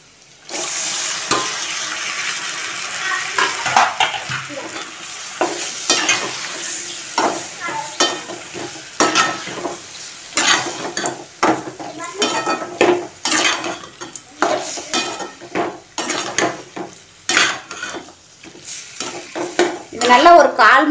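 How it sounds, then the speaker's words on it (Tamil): Goat blood being stirred and fried in a pan, a steady close sizzle broken by frequent scraping and clattering strokes of a spoon against the metal, continuing throughout. "நல்லா ஒரு 1/2 மணி நேரம் இதே மாதிரியே நல்லா கிளறுங்க"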